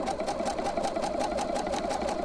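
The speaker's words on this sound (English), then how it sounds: "So let me go ahead and get this sewn." A sewing machine stitches a fabric-wrapped rope trivet made from scrap fabric, a steady, fast rhythmic hum of the needle pulsing evenly throughout, close and alone.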